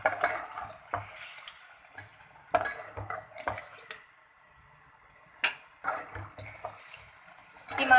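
A spoon stirs tomato paste into pasanday meat in a cooking pot, with intermittent scraping and clinking strokes against the metal and a soft sizzle between them, no talking.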